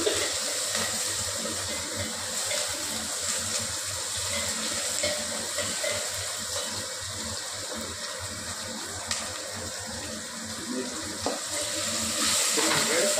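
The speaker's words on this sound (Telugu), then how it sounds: "ఆనియన్ బాగా వేగింది" Onions frying in a pan give a steady, soft sizzle throughout, with faint stirring and no talk.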